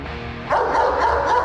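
A guard dog barks sharply and aggressively at close range, a single loud intense bark burst that holds for about a second with no talking.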